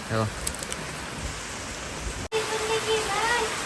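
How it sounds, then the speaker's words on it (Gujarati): Heavy rain pours in a dense, steady hiss, with gusting wind mixed in and a brief dropout partway through. "પવન ને વરસાદ વધી ગયો છે અત્યારે"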